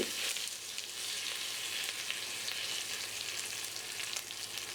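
Torn bay leaves, small cinnamon sticks and cardamom pods fry gently in oil for white pulao, a soft, even hiss of sizzling that holds steady throughout without speech.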